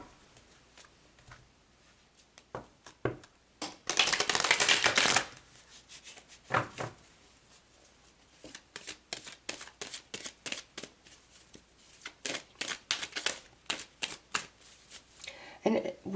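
Tarot cards shuffled by hand, with a dense riffle burst in the middle and scattered soft card taps and slides before and after, close and fairly quiet.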